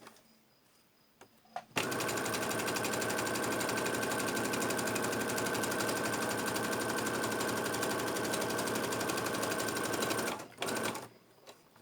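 A sewing machine runs at a steady, loud, even pace for about nine seconds while stitching the inside pockets of a bag, starting and stopping sharply, with quiet handling before and after.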